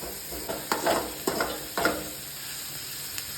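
Onions fry in a pan with a soft, steady sizzle, broken by a few close scraping stirs in quick succession.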